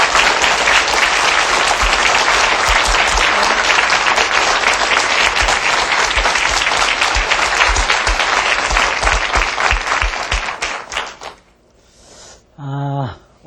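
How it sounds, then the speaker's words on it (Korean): A studio audience bursts into sustained, loud applause to welcome a guest lecturer on Korean art. The clapping is dense and continuous for about eleven seconds, then tapers off abruptly, and a voice follows. "박수로 맞아주세요"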